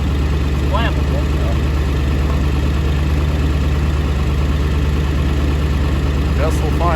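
A project truck's engine idles steadily after being sprayed with WD-40, a constant low rumble filling the whole stretch, with faint voices occasionally in the background.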